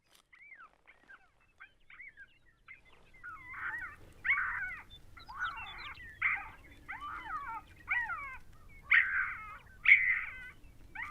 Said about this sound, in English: I switched to a domestic puppy distress.